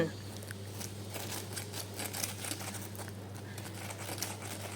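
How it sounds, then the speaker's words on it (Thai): Soft, crisp crunching of cooled, crispy fried batter used for coating meatballs, chicken and sausages: quiet irregular crackles and crinkles, steady throughout with a low hum behind. "เดี๋ยวเรามาฟังเสียงกรอบของเขากัน"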